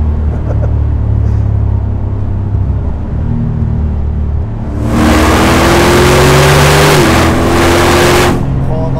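A Land Rover Defender 90 Works V8 idles with a low rumble inside the cabin, then accelerates hard from about five seconds, its engine rising in pitch and growing loud through the gears.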